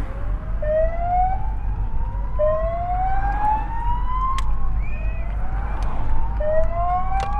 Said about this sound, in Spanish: tocar las sirenas